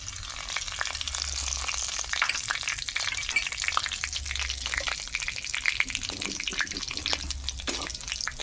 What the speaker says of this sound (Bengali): চিকেন ভাজার তেলে এখানে দারুচিনি, লবঙ্গ আর এলাচ দিয়ে দিচ্ছি